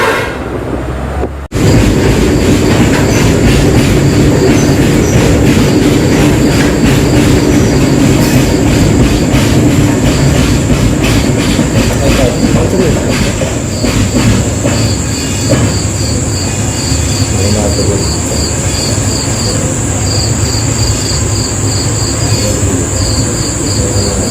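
Train at Laheriasarai railway station, a loud continuous rumble of railcars with rattling wheels, clickety-clack and a persistent high squeal, starting abruptly after a brief quiet moment and running steadily throughout.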